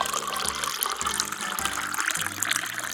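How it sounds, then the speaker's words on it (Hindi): Water is poured over a hand burned by spilled tea, giving a steady splashing trickle at moderate level with no talking. "तभी विवेक जाकर पानी लाता है और भानुमति के हाथ पर डालता है।"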